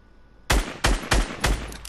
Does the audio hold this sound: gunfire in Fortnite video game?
yes